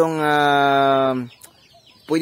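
Farm chickens cluck and squawk in a loud, sustained call lasting about a second, followed by a short pause and a second burst of clucking close by.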